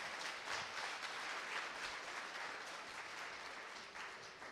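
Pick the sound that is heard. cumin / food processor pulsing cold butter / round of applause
round of applause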